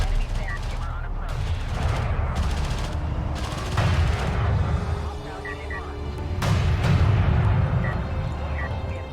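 Weapons fire in the real-time strategy game Homeworld: Deserts of Kharak pounds a carrier, with dense rattling gunfire and heavy booming bursts in waves while a voice talks over it.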